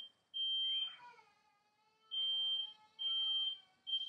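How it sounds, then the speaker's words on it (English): A high, piercing electronic alarm beeping in long steady tones, separated by short gaps, clear and fairly close in an otherwise quiet room. "That's my fire alarm going off."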